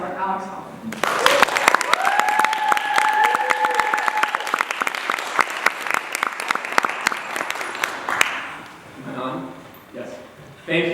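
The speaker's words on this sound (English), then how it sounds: "Please give a warm round of applause for Alex Hoffman." A symposium audience applauds warmly for a speaker, a thick, sustained round of clapping lasting several seconds, with a steady tone running underneath, before tapering off into a man's speech.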